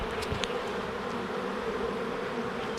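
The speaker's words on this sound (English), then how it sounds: "The bees are a little nervous." Honeybees buzzing at a hive with a newly introduced Martin queen, a dense, continuous drone that stays close and steady.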